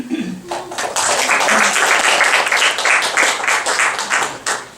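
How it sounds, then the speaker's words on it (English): An audience at a university philosophy and games talk breaks into a round of applause, dense clapping that swells after a brief spoken bit and carries on steadily before tapering. "Not used to a round of applause."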